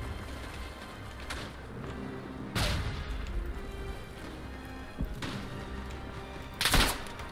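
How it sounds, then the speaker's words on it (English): Grenades burst inside a bunker in a World War I Eastern Front game at Tannenberg, three separate sharp explosions spaced a few seconds apart over quieter distant battle noise. "I'm throwing a bunch of grenades in there"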